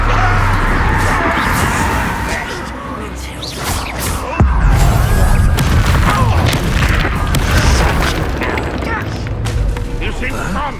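A Confringo blasting spell bursts in Hogwarts Legacy with a deep, loud boom that rumbles on amid dense game effects, and voices can be heard over it.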